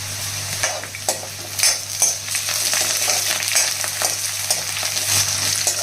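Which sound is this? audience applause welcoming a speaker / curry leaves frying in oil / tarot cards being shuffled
curry leaves frying in oil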